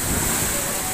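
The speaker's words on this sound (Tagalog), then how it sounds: "Dalang lakas ng alon." Strong sea waves crashing during a nighttime typhoon, a loud, continuous rushing surge mixed with wind noise buffeting the microphone, with no speech.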